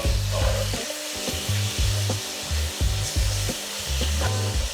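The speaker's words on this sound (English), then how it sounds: "we're just going to fry that off on just a gentle heat" Chicken fries in olive oil in a pan over gentle heat, giving a steady bright sizzle with a low, pulsing hum running through it and occasional soft clicks, heard close and alone.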